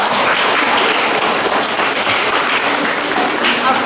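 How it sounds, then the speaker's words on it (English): A school assembly audience applauds a first responder named Michael after he receives a certificate, a dense, loud wash of clapping that fills the room steadily from start to end. "Let's give him a big round of applause."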